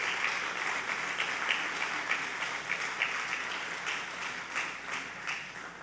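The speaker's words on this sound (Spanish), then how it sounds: "Si da un aplauso, Señor, déselo fuerte, grande." A church congregation applauds during a sermon, a sustained wash of many hands clapping at moderate distance, steady and even with no one speaking over it.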